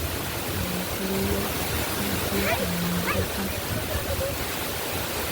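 A waterfall pours and splashes continuously, a dense, loud hiss of falling water heard up close, with faint voices and a few brief calls mixed into the roar.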